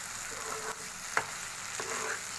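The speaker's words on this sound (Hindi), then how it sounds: "अब मैं इसमें काली मिर्च डाल दूंगी और अब इसको अच्छी तरह से मिक्स कर लेंगे" Macaroni with black pepper being stirred in a hot frying pan: a steady broadband sizzle with a few scraping spoon strokes and one sharper clink near the middle.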